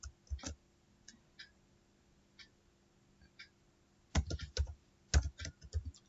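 Someone types on a computer keyboard while writing SAS code, with sparse single key taps followed by a quicker, louder burst of clicks near the end.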